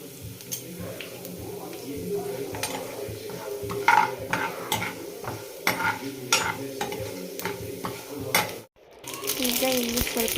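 Cumin, mustard seeds, curry leaves and chana and urad dal tempering in hot oil, a close crackling sizzle with sharp spoon scrapes and clinks against the pan, briefly cut before the frying resumes.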